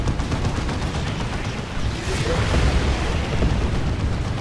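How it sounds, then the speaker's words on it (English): Rockets bursting in a Dawn of War 2 battle between Imperial Guard and Orks, a dense rumbling barrage of booms and blasts running continuously at steady loudness. "And here's a bunch more rockets"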